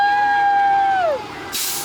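A school bus's air brakes, a sustained high brake squeal that bends downward in pitch and fades, followed by a short, sharp burst of hissing air release, heard up close.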